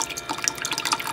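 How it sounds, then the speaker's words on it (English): Water siphoned through a hose from a 56-gallon aquarium trickles and drips into a small tank, a close, continuous bubbling patter of falling droplets with no voices. "I've started a siphon with a water hose from this existing aquarium"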